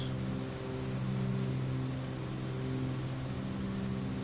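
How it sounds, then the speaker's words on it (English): The twin engines of a Cessna 414 in Microsoft Flight Simulator give a steady, continuous drone with strong low harmonic tones, loud and unchanging throughout. "the engines are still a little bit too loud"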